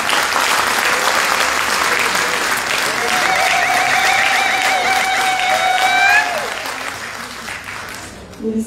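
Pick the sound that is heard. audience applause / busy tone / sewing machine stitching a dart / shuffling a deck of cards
audience applause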